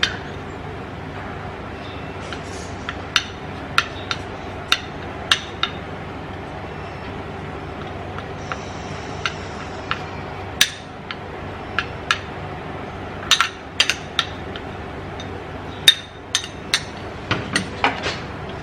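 Baking soda and Vaseline being mixed in a container, heard as sparse, sharp clicks and taps of a utensil against the vessel, scattered irregularly over a quiet background.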